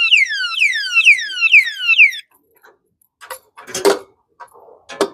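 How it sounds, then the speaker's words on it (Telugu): An anti-theft lock alarm on a custom-built electric car sounds a loud series of rapidly falling electronic chirps, about five repeating sweeps, then stops, followed by scattered clatter and handling noises nearby. "ఎవరైనా ఇలా 3 times లాగినప్పుడు మీకు ఇలా సౌండ్ వస్తుంది, అలారం వస్తుంది."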